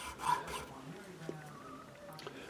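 Nut slotting file working string slots in a soprano ukulele nut, a soft close rasping rub in short strokes, quiet and fairly sparse, with faint small knocks.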